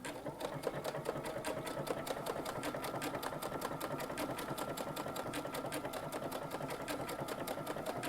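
Baby Lock Altair sewing machine stitching on a lengthened stitch setting, a fast, even mechanical chatter of needle strokes that runs steadily and fairly quietly throughout.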